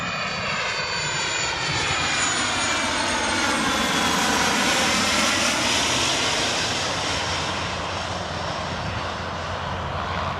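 A fixed-wing airplane coming in to land near Portland's industrial area by the Columbia River, its engine roar loud and steady overhead with a sweeping Doppler-like shift as it passes, with no talking.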